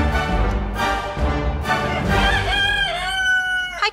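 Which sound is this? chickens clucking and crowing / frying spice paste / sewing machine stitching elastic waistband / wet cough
chickens clucking and crowing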